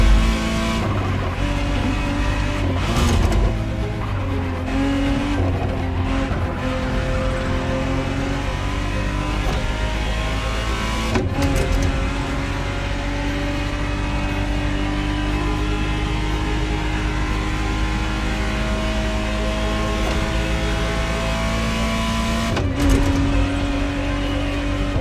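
A 1991 Ferrari Testarossa, the re-engineered model, drives in The Crew Motorfest racing game, its engine droning loudly and steadily throughout with shifts in pitch, a few sharp gear changes and tire squeals breaking in.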